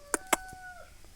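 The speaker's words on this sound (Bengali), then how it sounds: "এই যে এটা ডিম পারবে কক কক করে" A hill hen clucks twice in quick, loud bursts close by, followed by a fainter call and a thin drawn-out tone fading under quiet farmyard background.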